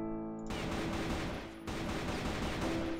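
Gunfire in the video game CrossFire, a continuous burst of rapid shots that starts abruptly, briefly dips, then carries on at a steady level, with no talking.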